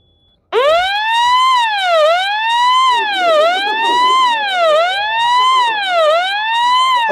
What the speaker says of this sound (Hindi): प्रेस का मतलब यहाँ आप दबाओ ताकि लोगों को पता चले आग लगी, सायरन बजे।